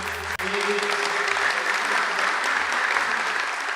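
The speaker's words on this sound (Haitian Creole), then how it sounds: "Nous demandons au grand public d'applaudir chaleureusement ces personnages." Audience applause for guests at a June 2019 maritime canal broadcast event, steady dense clapping from a crowd that continues evenly throughout without pause.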